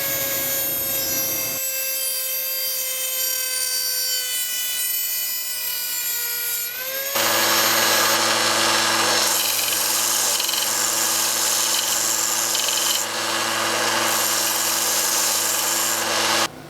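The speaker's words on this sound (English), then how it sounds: "we're going to take our Dremel tool and we're going to cut just right before it curves here on our escutcheon" A Dremel rotary tool cuts through a metal escutcheon for a homemade lightsaber, a loud continuous high-pitched whine and grinding rasp that steps up sharply in intensity partway through and holds steady to the end.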